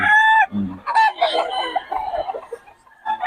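Roosters and chickens for sale at a market cluck and squawk up close, with a rooster's crow rising at the start, and people talk amid the birds.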